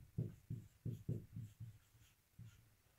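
A pen writing on paper, close and soft, with a series of quick scratchy strokes in an uneven rhythm.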